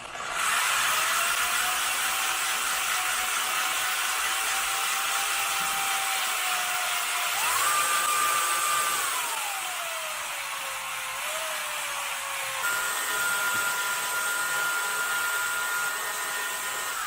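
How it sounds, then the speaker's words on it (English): A power drill fitted with a degassing wand whirs steadily for a long stretch, its pitch shifting up and down as it stirs sugar into water for kilju. "I'm going to attach that to my drill and start this stirring process"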